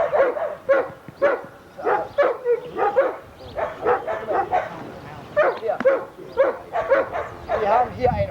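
A working dog barks repeatedly in short bursts during a training session, the barks coming in a steady rhythm across the whole stretch, with people talking in the background.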